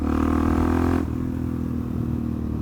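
A supermoto motorcycle engine drones steadily at close range, loud and revving high before easing to a lower, rougher idle-like tone partway through, with no talking over it.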